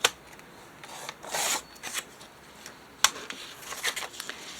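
Paper is cut for a junk journal, with a few close, quiet snips and rustles of paper in a soft, irregular rhythm, several short bursts separated by pauses and no talking.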